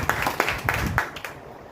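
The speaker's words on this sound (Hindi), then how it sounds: "सर के लिए जोरदार तालियां" Seminar audience in a hall giving a speaker a loud round of applause, with a few sharp claps standing out over the crowd noise before it tapers off within about a second and a half.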